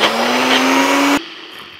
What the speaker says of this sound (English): I'm gonna grab my blender from over here and we are just gonna blend this